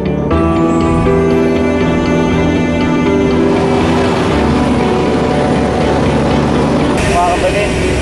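Steady low airplane engine drone heard from inside the cabin, a continuous loud hum with layered tonal whine that holds throughout.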